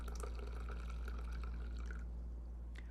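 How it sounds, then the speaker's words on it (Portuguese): Water pours from a kettle spout into a coffee filter set over a green pot, a steady close liquid trickle and splatter over a low constant hum, easing slightly near the end. "Bico da chaleira derrama água no coador com café sobre um bule verde."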